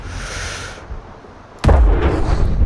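A sniper rifle shot in the video game Sniper Ghost Warrior Contracts, one sharp loud blast midway after a quiet ambient stretch, followed by a booming echoing tail.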